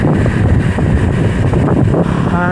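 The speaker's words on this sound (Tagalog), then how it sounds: "Sarap ng hangin dito, napakalamig." Loud, steady wind buffeting the microphone with a low rumbling roar during a bicycle ride on the road down from Tagaytay, constant throughout with no voices.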